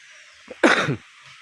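A single harsh cough, close and loud, preceded by a short breath, in otherwise quiet surroundings.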